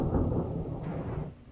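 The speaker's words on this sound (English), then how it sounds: "Storm." Deep, continuous rumbling of a thunderstorm, heavy low-end roar with a brief brighter swell near the end, steady and fairly close.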